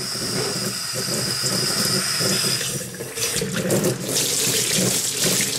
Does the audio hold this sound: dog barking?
no